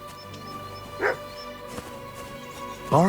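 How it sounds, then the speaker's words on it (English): A dog in Kingdom Come: Deliverance II gives two short barks about two seconds apart, the second louder and closer, over a quiet game background hum. "Barking."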